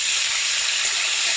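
Taki fish dropped into hot oil, a loud, dense sizzle that hisses steadily and close throughout the short moment.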